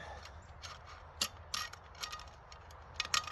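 Faint metallic clicks and scrapes come in short irregular bursts as a chainsaw chain is worked over the sprocket onto a Tsumura bar.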